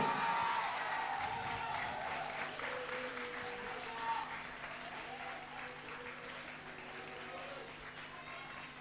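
Audience applause at a certificate award ceremony, dense sustained clapping from a sizable crowd that gradually eases off, with faint voices and background music underneath.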